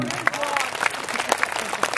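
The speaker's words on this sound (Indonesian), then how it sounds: "Tepuk tangan," Crowd at a religious sholawat gathering in Tulungagung claps together, a dense, lively burst with sharp individual claps standing out, while voices call and talk over it.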